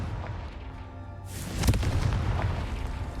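In Hogwarts Legacy, the Confringo fire spell sets off an explosion: a sudden whooshing burst followed by a rumbling boom that trails off, with no talk over it.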